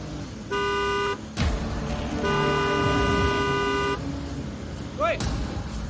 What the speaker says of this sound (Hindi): हॉर्न पे हॉर्न मारे जा रहे हो